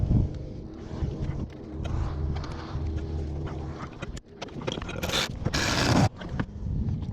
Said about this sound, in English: This impact only goes to 35 pounds. I'm not going crazy on these bolts.